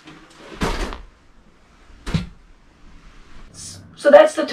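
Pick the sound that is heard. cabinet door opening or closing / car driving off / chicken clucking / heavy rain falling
cabinet door opening or closing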